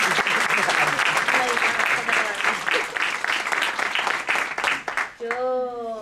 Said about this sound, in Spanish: Así que un aplauso muy grande.